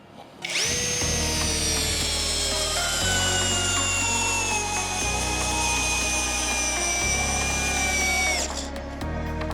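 A 20-volt Alpa cordless screwdriver drives a screw into wood with a loud, steady motor whine. The low drone steps in pitch as the screw bites, running for about eight seconds before cutting off.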